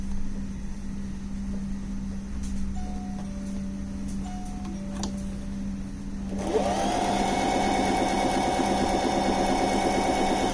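A bernette b05 academy sewing machine hums steadily at slow speed with light ticking, then its whirring grows busier and slightly louder, running continuously without voices.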